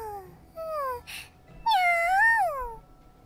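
Cat meowing in the Super Neptunia RPG video game, several clear rising-and-falling meows, the last one longest and loudest, with a brief rustle between them.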